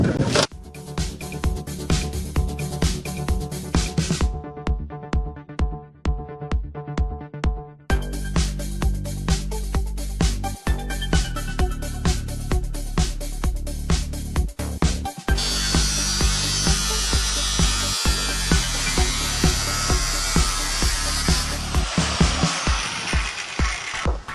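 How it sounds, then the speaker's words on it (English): A reciprocating saw cuts through the steel casing of an old water heater with a loud, rapid mechanical buzz and dense chattering strokes, pausing briefly and restarting, with a harsher metallic rasp in the last stretch. "I'm working on it with a reciprocating saw."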